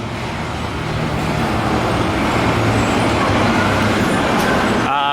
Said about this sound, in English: It's not so bad, but these bumper cars are intense.